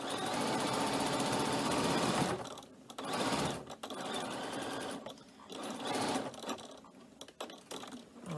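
A sewing machine stitches a cork messenger bag in quick rapid bursts, running fast for a couple of seconds, pausing briefly, then resuming in several shorter runs, close and clear with no voices.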